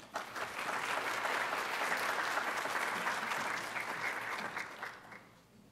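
An audience at a conference claps to welcome a speaker, a full, sustained round of applause that swells quickly, holds steady, then tapers off near the end.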